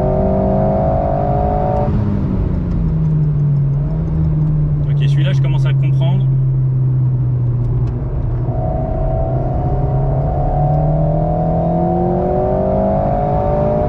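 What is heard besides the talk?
car engine revving during sport-mode driving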